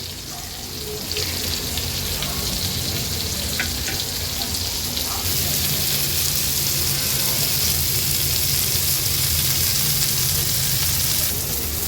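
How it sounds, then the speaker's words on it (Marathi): Semolina-coated prawns with mint and coriander fry in oil on a flat pan, producing a loud, dense, continuous sizzle that holds steady and close for the whole stretch, with no talking. "हे उरलेले प्रॉन्स पण सुरुवातीला जसे आपण हे प्रॉन्स फ्राय केलेले तसेच फ्राय करून घेणार आहे मी"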